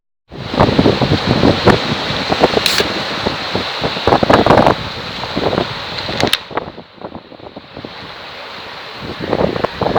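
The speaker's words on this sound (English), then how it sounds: "it's proper windy here" Strong wind on the Norfolk coast buffets the microphone in loud, gusty rushes, with surf and open-air noise underneath and a brief lull partway through.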